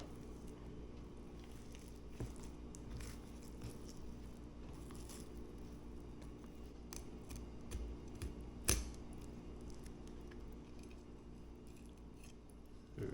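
A knife cuts through the ribs of a tautog fish during cleaning, giving faint, scattered crunchy clicks and snips over a quiet background, with one sharper snap partway through.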